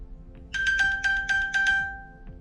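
An iPhone ping alert triggered from an Apple Watch, a bright electronic chime pulsing in about six rapid bursts, loud and close, then trailing off into a fading tone.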